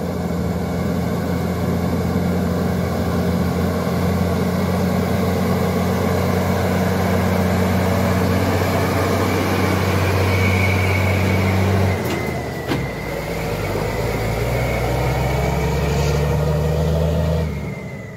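Fuso trucks rolling slowly past on a dusty road, a loud steady low diesel drone with a shift in engine pitch partway through as one passes close, then continuing.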